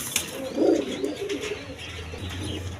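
Pigeons coo in low, soft murmuring bursts at close range among quality fancy breeds kept for sale, with no talk over them.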